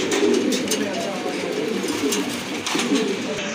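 Lakka fantail pigeons coo in soft, steady murmurs close by, a continuous low warble from a pair of birds with a faint background hiss.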